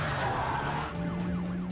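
A car flees police with tires skidding, a short squealing slide over engine noise at moderate distance, with a faint siren-like sweep wavering in the background.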